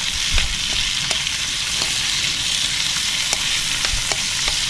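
Fish grilling over heat alongside onions, a loud, close, continuous sizzle and crackle with occasional sharp pops, steady throughout with no talking.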